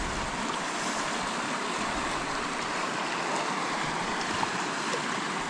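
Rushing whitewater of rapids on the Tanjil River, a steady broadband roar of tumbling water that holds constant and close throughout with no break, talk or other sound.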